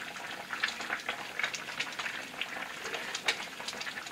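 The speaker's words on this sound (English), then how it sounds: "We're going to add this 1 spoonful at a time to our boiling liquid" Liquid bubbles and sputters at a gentle boil as spoonfuls of dumpling dough are dropped in, with faint pops and crackles scattered across a quiet, steady simmer.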